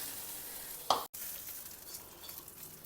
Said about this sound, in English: Now pour this tempering on top of the tambuli.